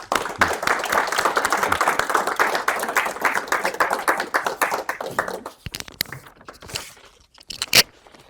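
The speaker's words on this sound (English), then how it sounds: "let's give Jesse a round of applause" A round of applause from a seminar audience for the speaker Jesse at a multifamily real estate and finance event, dense clapping for about five seconds that thins into scattered claps.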